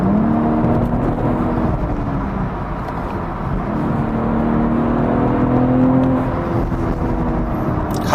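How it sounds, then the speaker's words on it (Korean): BMW M340i xDrive accelerating at limited speed, its engine and exhaust a steady, close drone heard from inside a cabin with double-laminated acoustic glass, with a rising, rumbling tone throughout and no talk. "가속을 해봤는데요."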